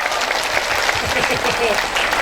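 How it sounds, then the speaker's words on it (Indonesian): Applause from a crowd at a mosque gathering in an Indonesian village, steady and fairly loud, with voices and a low murmur of talk mixed under the clapping. "Tepuk tangan dulu dong"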